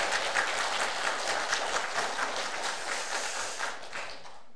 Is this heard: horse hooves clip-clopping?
no